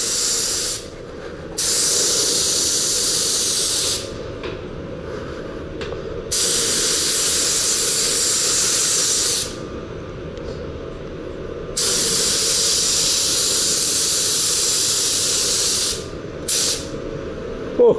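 An Iwata LPH80 spray gun sprays lacquer in long steady hissing bursts of several seconds each, loud and close, separated by brief pauses, with no talking.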